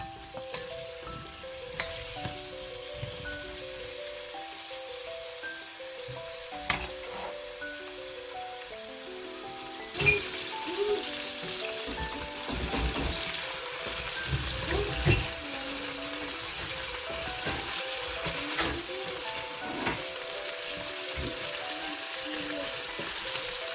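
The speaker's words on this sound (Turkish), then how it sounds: "Sebzelerimizi güzelce kavuralım." Vegetables for a bulgur pilaf sautéing in a pan, a steady broadband sizzle that grows louder and denser about halfway through, with occasional stirring clicks and soft background tones.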